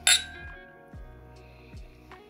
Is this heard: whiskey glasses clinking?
yes